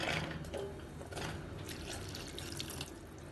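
Water poured into a clay pot holding pumpkin pieces, a soft continuous splashing and trickling, close but quiet, with a few brief clatters.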